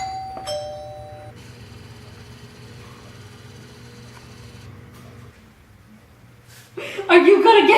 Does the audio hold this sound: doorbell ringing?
yes